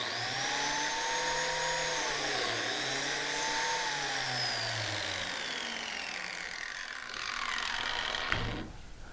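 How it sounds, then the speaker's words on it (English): A biscuit joiner motor whines up to speed and holds a steady, loud mechanical drone with shifting pitch as the blade plunges into a wooden workpiece, then cuts off abruptly near the end. "pull the trigger, which is back here, let the motor get up to speed, and then plunge it into the wood until it bottoms out"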